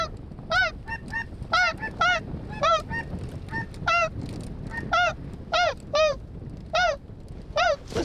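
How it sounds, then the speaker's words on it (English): Geese honk repeatedly during a Louisiana duck hunt, loud and close, about a dozen sharp nasal calls in an uneven rhythm over a low outdoor background, with no talking. "Is that goose?"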